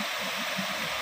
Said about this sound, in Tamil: தண்ணி அந்த போர்ஸுக்கு கொண்டு விழுகும்போது பயங்கரமா இருக்கு பாக்குறதுக்கு.